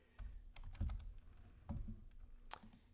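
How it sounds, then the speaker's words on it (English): A computer keyboard is tapped in short bursts as a part number is entered into repair-order software: a handful of quiet, crisp keystrokes spaced irregularly, with no speech. "When I go to a repair order and I start typing a part number"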